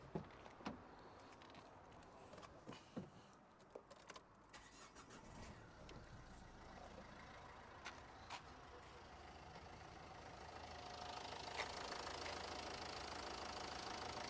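A 2010 Nissan Qashqai with a 1.5 dCi diesel engine and 127,000 km is started and settles into a steady idle, a faint low hum under scattered clicks and knocks that grows louder toward the end.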